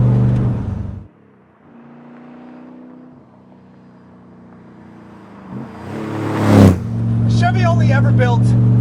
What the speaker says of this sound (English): is a Lingenfelter-prepped LS3 breathing through a stack of 8.